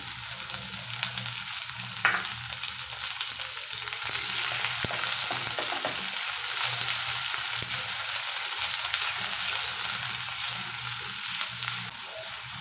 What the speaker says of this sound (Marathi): इथे मी एक मोठा कांदा घेतला आहे उभा चिरून तो आपण तयार घालूया तेलावरती